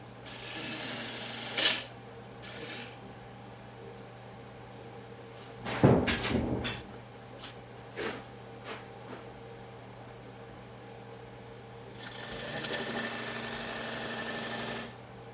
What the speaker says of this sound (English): Cuts a nice bevel in there for the tenon.